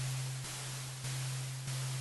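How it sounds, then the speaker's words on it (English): Steady hiss of pink or white noise from a software synthesizer's noise oscillator layer, over a constant low hum, with slight level changes. "If I turn that up, that adds a layer of noise"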